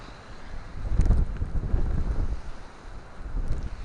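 Stormy wind blows over a murky sea on a snowy day, rough gusts buffeting the microphone in surges that swell and ease over a few seconds.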